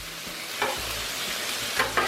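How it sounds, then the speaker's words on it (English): Diced tomatoes stirred into sizzling meat on a Blackstone griddle, a steady close frying hiss with a few scraping spatula strokes cutting through. "We're going to mix that tomatoes up into that meat mixture right there."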